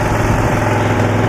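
A 1972 Cushman pickup engine runs flat out in first gear, held back by its governor, producing a loud, steady, close drone with a rough, throbbing low rumble.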